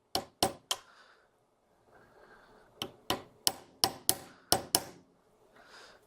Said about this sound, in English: with the sight clamped in the vise, I can tap that blade forward